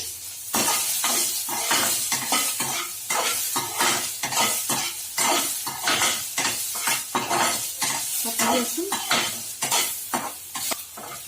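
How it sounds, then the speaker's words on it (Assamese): Sliced onions, green chillies and whole cumin fry in hot oil in a pan while a spatula scrapes and stirs in a steady rhythm, close and loud over a continuous sizzle. Nobody speaks. "এতিয়া অকণমান ভাজি ল'ম।"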